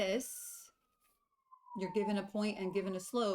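A siren outside passes as a single long, faint, steadily falling tone during a short pause in a man's speech.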